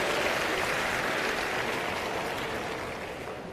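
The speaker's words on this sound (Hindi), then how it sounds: "जोरदार तालियां हो जाएंगे प्लीज।" A large outdoor crowd at a World Environment Day political rally breaks into dense, continuous applause that forms a broad wash of clapping, fading slightly toward the end, with no talking.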